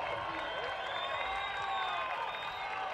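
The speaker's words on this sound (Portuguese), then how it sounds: "Eu vou querer um aplauso gigante. Um aplauso digno do que eles fizeram na pista." Sustained crowd applause with scattered cheers for the podium riders at a 2018 Brazilian superbike race at Interlagos, a steady broadband wash of clapping lasting throughout.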